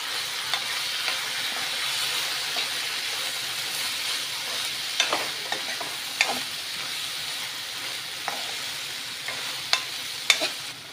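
Egg being stirred with soy sauce in a hot frying pan: a steady sizzle runs throughout, with scattered scraping and clicking taps from the utensil, no voices.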